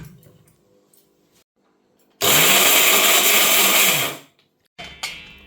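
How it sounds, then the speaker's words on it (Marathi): A kitchen mixer grinder blends ingredients for besan modak: a loud, steady motor whir runs about two seconds and cuts off, followed by a brief restart after a short silence, with faint quiet sounds before. "मी मिक्सरमध्ये दळून घेते आहे"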